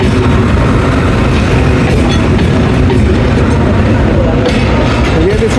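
A Rehman Baba Express passenger train, Up 6405, pulls into Attock City Junction with a loud, steady rumble of wheels and carriages and a faint clatter over the rails, filling the scene continuously.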